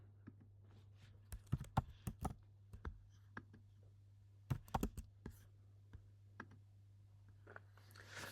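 Faint, close taps and clicks from entering a search for Instagram in a phone's app store, arriving as sparse irregular bursts over a low steady hum.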